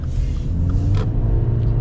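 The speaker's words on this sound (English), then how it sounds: "Get our full-blown acceleration here, though." A 2023 Subaru Impreza pulls away at full throttle, its engine a steady, deep rumble that holds strong and close for a brief stretch with no talking.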